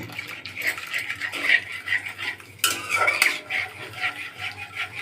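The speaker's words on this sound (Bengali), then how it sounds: "দুধের সাথে গুড়টা গলিয়ে নিব।" Milk with date palm jaggery being stirred in a pan, a spoon scraping and clinking against metal in uneven bursts, close and fairly loud, with a brief sharper clatter partway through.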